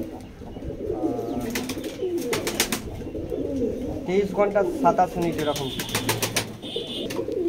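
Rampuri pigeons coo in repeated soft, throaty bursts inside a loft in Howrah, close and fairly loud, with someone talking over them.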